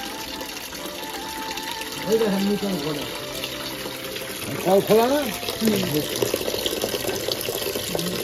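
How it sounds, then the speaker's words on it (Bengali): Water runs from a newly installed home tap into a bucket, a steady splashing gush under intermittent nearby speech. "এই প্রথম আমার ঘরের কলের থেকে জল এই যে ভরা হচ্ছে বালতিতে"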